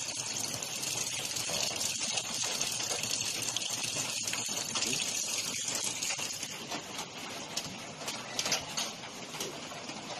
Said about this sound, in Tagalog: Yun po, nagkakarga po ng tubig.